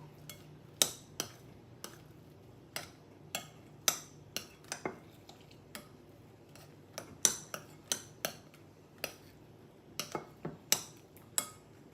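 Lemon cream cake batter being folded by hand with a spoon in a bowl, heard as faint, irregular taps and clinks of the spoon against the bowl over a quiet room, with no talking.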